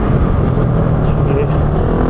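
A GasGas 700 dirt motorcycle riding downhill through a valley, its engine a loud close-up low drone with steady rumble, plus rushing wind noise, running continuously.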